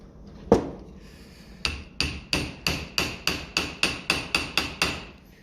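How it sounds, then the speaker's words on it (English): An impact tool used on the carburettor of a 1955 Ferguson TED 20 TVO tractor: one heavy strike, a pause, then about ten sharp ringing metallic blows in quick, even succession, close and clear with no talk. "I might just try the impact just to be safer"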